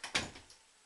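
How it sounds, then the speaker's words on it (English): A door closes with a short, fairly faint thud and brief rattle, followed by a soft secondary knock and a quick fading tail. "If you want to step through, Dan, you can get a shot of the door actually closing very nicely"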